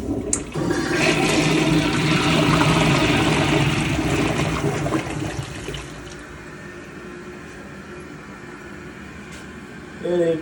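A high-tank pull-chain toilet flushes loudly into a Kohler Memoir bowl, a rushing surge of water that fades after about five seconds into a quieter trickle of refilling, with a brief clunk near the end.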